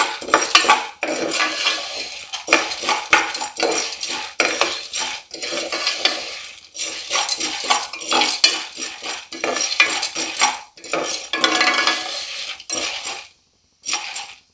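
Dried corn kernels are stirred in a pressure cooker over a medium flame before popping, making dense repeated scraping and rattling bursts with short pauses, loud and close, with no voices.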